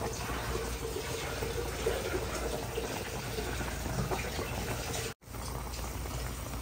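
Pinaksiw fish broth bubbling at a steady, continuous boil in a pot, a dense close wash of rolling bubbles that cuts out briefly near the end and then resumes.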